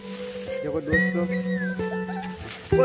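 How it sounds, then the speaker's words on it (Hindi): Puppies whimpering with thin, high tonal whines that rise and waver across the moment. A few short yips break in, and a voice talks over them close by. "ये कुत्ते के बच्चे हैं"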